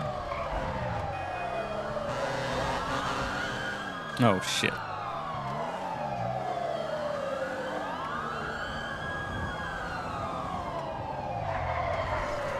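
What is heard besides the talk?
police car siren chasing player in video game GTA 5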